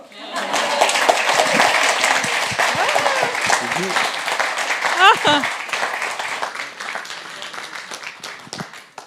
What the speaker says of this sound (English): You may clap now